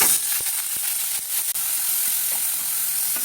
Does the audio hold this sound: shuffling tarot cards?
no